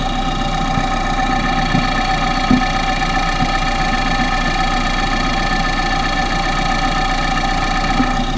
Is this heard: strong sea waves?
no